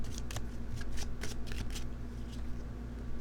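Tarot cards shuffled by hand at close range, a run of quick riffling bursts over the first two seconds, then quieter handling as one card is drawn, with no voice.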